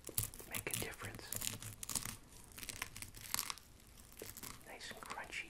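Panko-breaded haddock being bitten and chewed up close, with crisp crunching and crackly tearing bursts in quick irregular succession, faint and intimate, mixed with soft whispered talk.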